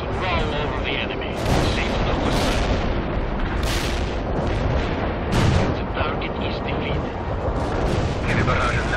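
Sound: artillery barrage explosions in video game World in Conflict

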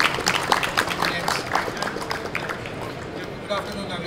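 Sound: audience applause

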